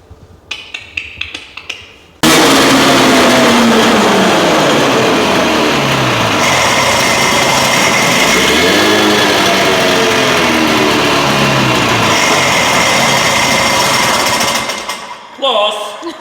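A 1971 Ski-Doo Olympic snowmobile engine roars to life after a few small knocks, running loud and close with a rough, buzzing tone whose revs rise and fall repeatedly before cutting out near the end.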